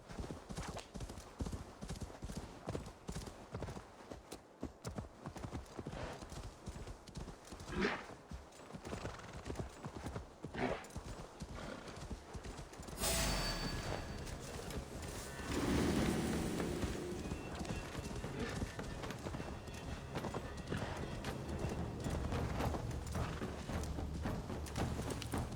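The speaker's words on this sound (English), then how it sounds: "Fly, little horse, fly." A horse in Assassin's Creed Valhalla galloping, with steady rapid hoofbeats that grow louder and denser halfway through, a whinny breaking in at one point.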